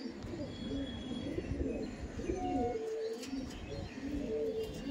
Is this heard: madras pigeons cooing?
yes